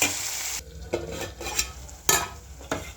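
Tomatoes cooking with turmeric and salt in a hot pan, a soft steady sizzle broken by several distinct scraping stirs of a spoon against the pan, close and alone.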